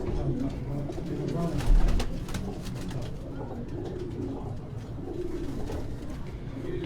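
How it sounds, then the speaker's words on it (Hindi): Trained flying pigeons coo on a rooftop loft in Quetta, a dense, steady murmur of close cooing and rustling with someone speaking briefly over it. "ये सारी परवाजी कबूतर है अपने इंशाल्लाह।"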